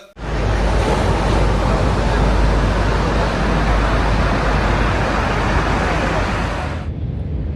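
Strong sea waves surge back onto Kozhikode South Beach after the sea had unusually withdrawn, a loud, continuous roar of surf crashing close by, steady and unbroken before cutting off abruptly near the end.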